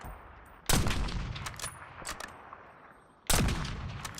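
Video-game gunfire set in the 1980s: two sharp, loud broadband shots ring out with a gap of about two and a half seconds, and scattered lighter cracks and clatter fill the space between them.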